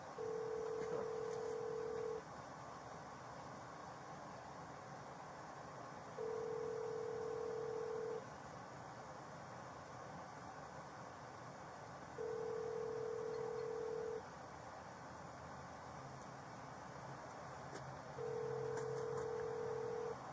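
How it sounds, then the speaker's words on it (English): A phone call's ringback tone, heard on a police body camera during a DUI arrest, repeats four times, each steady two-second beep separated by about four seconds of quiet, heard clearly through the handset over a faint background hum. "Actually, now it's ringing."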